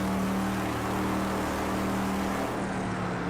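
A race car engine drones steadily in the Project Cars 3 racing simulator, a continuous mid-pitched hum with a faint rising whine and no pauses, heard alone throughout.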